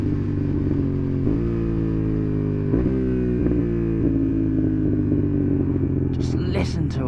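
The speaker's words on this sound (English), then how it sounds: "Little cracks from the exhaust now." A Honda CB750 Hornet ridden on a cold road, its engine droning under load and changing pitch through gear shifts, with small pops and crackles from the exhaust and wind rumble around the rider.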